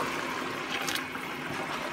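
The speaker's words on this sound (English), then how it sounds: "My water is boiling, and I'm gonna add the water" Boiling water is poured into a pot of rice and chickpeas cooked with turmeric, giving a short, steady trickling splash against a soft background hiss, close and continuous without speech.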